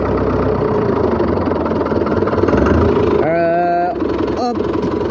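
A tractor engine idles loudly and steadily nearby, a rough low chugging drone, with a brief rising whine near the end, during maize hoeing work.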